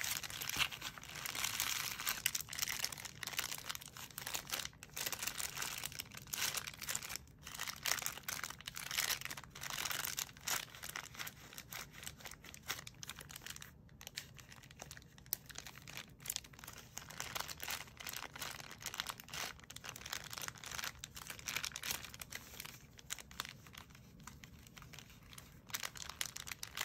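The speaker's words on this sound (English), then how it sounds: "These are fun to make crinkles with." Crinkly plastic wrappers of Korean Pokémon 151 booster packs being handled and scrunched close up, a continuous busy crackle with sharp bursts throughout and no talking.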